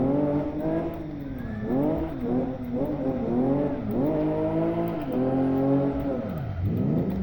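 A car engine in the Live for Speed 0.6R racing game revving steadily through the gears at low revs, rising and falling in repeated swells under a constant close drone, with no talk.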